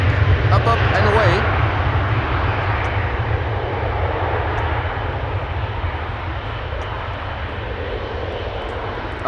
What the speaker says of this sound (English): Air France, Embraer 170, up, and away.